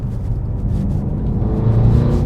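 A BMW F90 M5 with a full Super Sprint exhaust gives a deep, steady rumble that climbs slightly in pitch toward the end, close and loud, with no voices over it.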